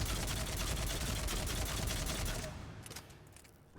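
Phaeston assault rifle firing in Mass Effect 3, a dense rapid burst of automatic shots that runs steadily for a few seconds and then breaks into a few scattered final rounds, loud and close.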